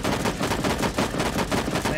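Dense, rapid automatic gunfire in a shooter video game, loud and continuous with overlapping shots and explosive crackle throughout.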